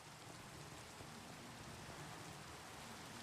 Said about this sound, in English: It is raining over here.